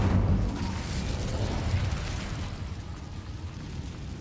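The Incendio fire spell in Hogwarts Legacy makes a loud whooshing burst that settles into a steady roaring, crackling flame and fades slowly over a few seconds.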